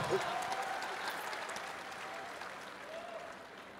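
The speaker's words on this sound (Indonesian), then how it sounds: "Kasih tepuk tangan dulu." Audience claps in a sustained, moderately loud round of applause at an event with a former esports world champion, with a few voices faintly audible beneath the clapping.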